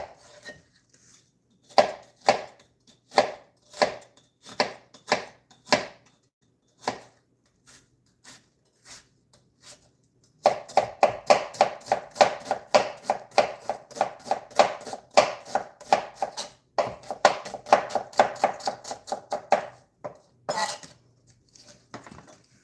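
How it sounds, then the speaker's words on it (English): A white onion being roughly diced with a knife: spaced, sharp chops at first, then a faster, denser run of cuts that carries on for several seconds, heard up close with no talking. "And then you just want your onion diced."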